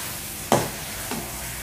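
Paneer stuffing for a kathi roll is stirred in a sizzling pan, with two distinct scraping strokes, the first louder, over a steady background of frying.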